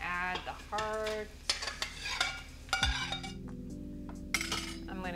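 Chicken hearts and gizzards fry in a pan with well-cooked onions, a steady sizzle under the clink and scrape of a utensil stirring, close and fairly loud.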